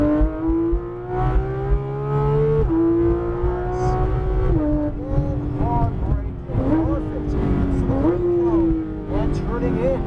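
A Porsche 993 GTS RS engine runs at full throttle on a track, its pitch climbing and dropping with gear changes while an instructor talks over it.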